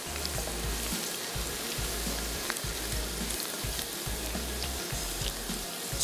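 Onions frying in a pan, a steady, dense sizzle that holds evenly throughout with faint low rumbling underneath and no talking.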